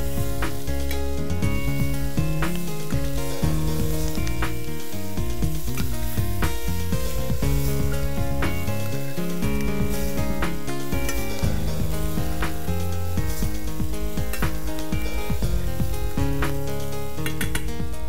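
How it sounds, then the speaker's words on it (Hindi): Onions sizzle steadily in a hot pan as they sauté and start to caramelize, a dense continuous frying hiss with occasional stirring scrapes, loud and up close throughout. "अनियंस हमारे लाइटली सॉटे हो चुके हैं, थोड़े से कैरमलाइज भी हो चुके हैं"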